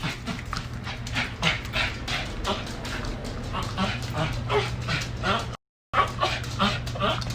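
Pet dog barks and yips excitedly in short, repeated bursts indoors close by. A voice talks intermittently over the barking.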